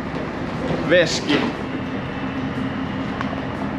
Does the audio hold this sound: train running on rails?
yes